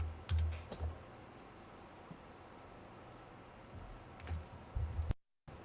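Computer keyboard keys tapped while typing a pip install command to set up a Python web framework: faint, quick clusters of keystrokes near the start and again near the end, with quiet pauses between.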